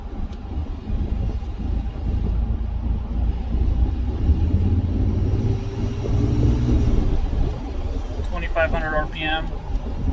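Pickup truck with a Corsa exhaust cruising at quarter throttle around 2000 RPM, a steady low engine rumble heard from inside the cab, with a voice speaking briefly near the end.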